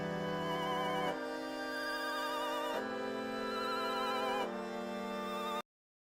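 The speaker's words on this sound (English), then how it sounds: "I took that same Chinese violin and I split it in two and muted each side and basically made sure it was panning from left to right each time" Chinese violin melody in a grime and UK garage beat, sustained and vibrato-laden over a low bass line, moving through a few long phrases before cutting off abruptly.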